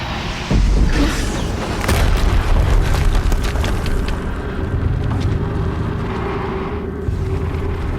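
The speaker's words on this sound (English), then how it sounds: "Another explosion." Deep booming explosions in the video game Horizon Zero Dawn, a heavy blast followed by rumbling bursts and crackling debris, loud and close with no speech.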